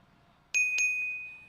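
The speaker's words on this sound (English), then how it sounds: "And when you hear this sound of the second chime," Electronic chime marking the end of a timed turn at a festival queen coronation, two quick bright dings followed by a ringing tone that slowly fades, clear and close.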